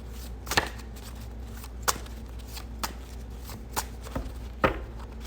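A deck of cards is shuffled repeatedly, giving crisp riffling bursts at irregular intervals, close and fairly quiet.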